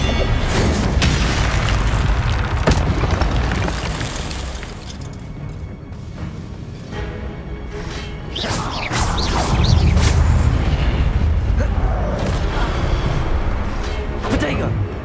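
In the game Hogwarts Legacy, an Incendio fire spell erupts in loud, rolling booms and crackling bursts that swell and fade over several seconds, with a voice speaking over the blasts.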